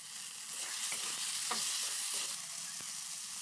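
Onions and tomato fry with a steady sizzle in a pan while a spoon stirs them, giving scraping clicks and brief louder knocks over the constant hiss, close and fairly loud, with no talking.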